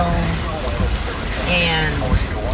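Steady wind and hail rush and patter against a truck, heard from inside the cab as a dense, continuous wash, with someone talking over it.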